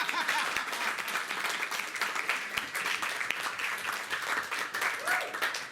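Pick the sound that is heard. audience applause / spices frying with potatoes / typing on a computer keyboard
audience applause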